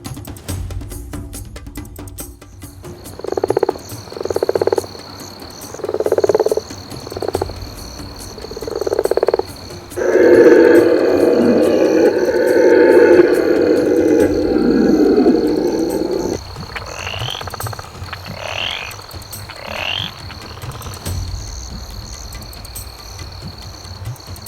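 Amazon rainforest at night, with loud frogs croaking in steady rhythmic pulses close by, a sustained chorus building in the middle, then higher chirping calls over a constant insect hum, with no talk.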